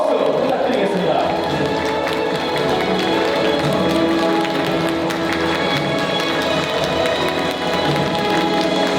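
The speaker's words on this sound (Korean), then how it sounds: "우리 신랑에게 뜨거운 박수 부탁드리겠습니다." Wedding guests clap steadily for the groom's entrance during a ceremony at a hotel, a dense, continuous wash of applause with crowd noise and some talk mixed in throughout.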